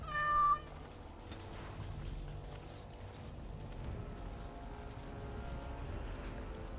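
A cat in the video game Dragon Age: Awakening gives a single short, clear meow at the very start, then only a low in-game ambient background continues.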